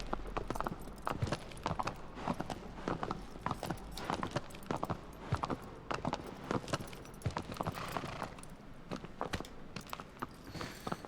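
A steady, rhythmic clip-clop of horse hooves from a horse being ridden in the video game Shadow of the Colossus, continuous and even throughout, mixed with faint mechanical rattles and no talking.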